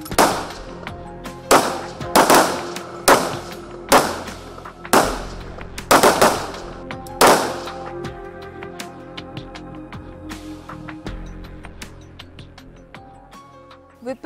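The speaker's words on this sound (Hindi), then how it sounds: "बंदूक से निकली गोली टारगेट की धज्जियां उड़ा देता है।" Bursts of Border Security Force gunfire during a firing drill, loud sharp shots in an uneven series, some in quick pairs, then a longer ringing tail with scattered shots fading into the distance.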